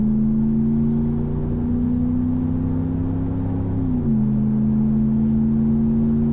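A Ram 1500 with the 5.7 Hemi V8 and an MBRP exhaust accelerates on a highway, its deep, steady exhaust drone climbing gradually before dipping once at a gear change and carrying on, heard from inside the cab without talk.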